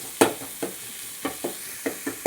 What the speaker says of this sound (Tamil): இப்போ வெங்காயமும் தக்காளியும் நல்லா வதக்குறோம்